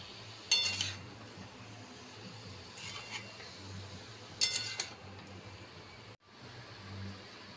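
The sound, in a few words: stirring fried potatoes in a pot while cooking aloo dum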